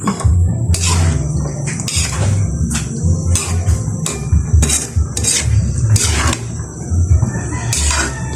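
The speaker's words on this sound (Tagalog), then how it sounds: "Mix na sa ato ang pansit." Pancit noodles being stirred and mixed in a pan, with a utensil scraping and clinking against the metal in an irregular, steady rhythm over a sizzling, watery background, close and fairly loud throughout.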